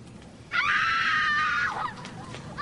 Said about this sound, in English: How about some screaming? Screaming's good.